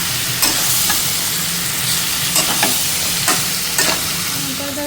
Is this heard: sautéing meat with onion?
yes